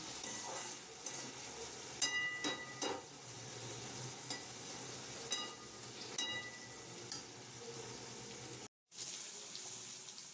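Pasta, potatoes and peanuts being stirred together in a pan, with intermittent spoon clinks and scrapes over a steady soft sizzle, a brief cut of silence near the end, no talking.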